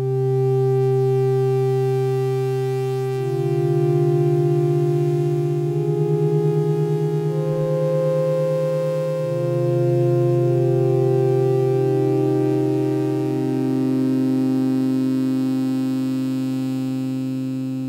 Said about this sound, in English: So I have a patch here which is a fairly simple pad.